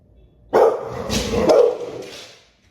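A dog lets out a single drawn-out bark that trails into a rough, growly grumble, close and loud.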